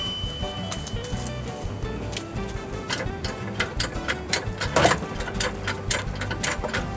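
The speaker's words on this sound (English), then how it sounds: "Now we're going to jack it up and take off the tire." A car jack cranks up a Cadillac Deville, producing a steady run of small mechanical clicks and ticks with a scraping burst partway through, moderately close and fairly quiet.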